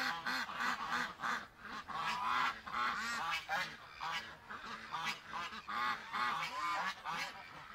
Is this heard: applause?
no